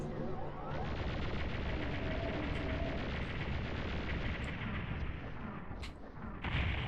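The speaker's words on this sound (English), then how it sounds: "Okay, this time I'm trying the plasma gun." Plasma gun fired in the PlayStation version of Final Doom, a dense continuous barrage of rapid crackling shots and blasts that runs loud and unbroken throughout.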